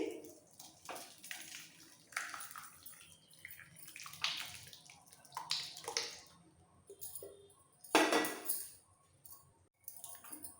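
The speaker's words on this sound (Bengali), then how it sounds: "এবার ছেঁকে ফেলবো যে কোনো স্ট্রেনারের ওপর একটা কাপড় নিয়ে এই সমস্ত ছানাটা এর মধ্যে ঢেলে দিচ্ছি" Curdled milk for rosogolla chhena is poured through a cloth-lined strainer, giving uneven splashing and trickling water with dripping and a louder gush partway through, near and fairly faint.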